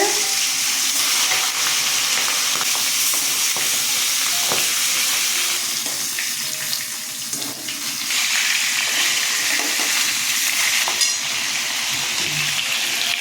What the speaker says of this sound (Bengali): মাথাগুলো ছেড়ে দিচ্ছি তেল গরম হয়ে গেছে